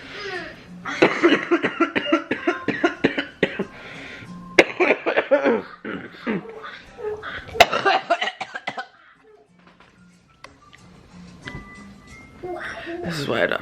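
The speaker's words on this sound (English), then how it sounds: "It's had like a severe cough attack" A severe coughing attack indoors, with harsh coughs bursting out in repeated fits, mixed with laughter and voices talking, loud and close before easing into a quieter stretch and starting up again.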